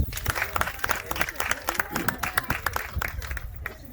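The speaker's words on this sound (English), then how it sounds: "first round of applause" A round of audience applause at a high school girls' basketball awards banquet, with sharp, uneven handclaps from a small nearby crowd over murmured voices throughout.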